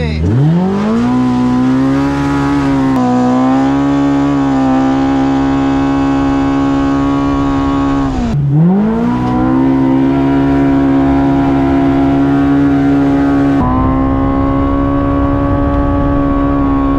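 Can-Am Maverick Pro R with a Stage 2 aftermarket exhaust, loud and close, climbing through sustained high-RPM pulls with two sharp drops and re-rises in pitch as it shifts.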